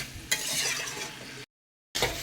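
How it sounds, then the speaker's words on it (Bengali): Potatoes and kohlrabi are stir-fried with catfish and spices in a pan, giving a close, bright sizzle with scraping stirs. A short silent gap breaks it before the sizzling resumes. "অনেকটা সময় নিয়ে খুব ভালো করে কষিয়ে নিচ্ছি আলু আর ওলকপিকে"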